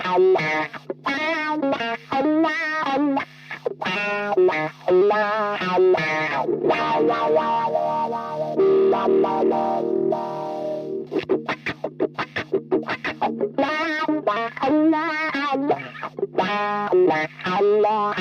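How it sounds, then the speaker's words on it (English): An electric guitar runs through uni-vibe, fuzz and wah-wah pedals, playing rhythmic distorted riffs and sustained notes with swirling, throbbing modulation, loud and up close with no talking. "the uni-vibe's preamp is on, the fuzz is on, and of course we'll check how the wah-wah reacts"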